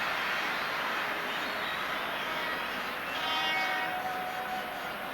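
Hunting horns sound over a dense stadium crowd during a UEFA Cup final between IFK Gothenburg and Dundee United. A couple of thin, sustained horn tones come from afar, partly buried in the continuous wash of crowd noise.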